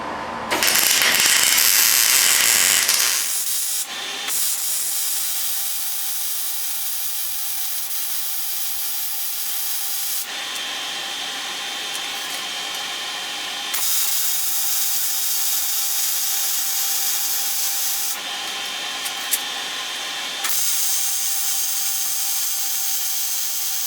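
Extension plates being welded onto a motorized bike frame, with loud continuous crackling buzz arriving in several long bursts separated by brief quieter pauses.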